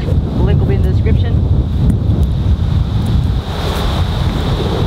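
Strong wind buffets the microphone on a golf course, making a loud, continuous rumble and rush throughout with no breaks.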